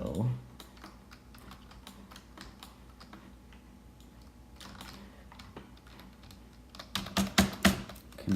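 Computer keyboard typing during a Planet Coaster gameplay session, a steady run of quick, light key clicks at close range, growing louder and busier near the end, with faint background game sound.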